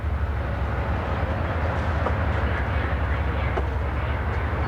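An Amtrak Auto Train sits idling at the Lorton station with a steady low rumble and hum, a few faint clicks and clanks rising over the constant engine drone.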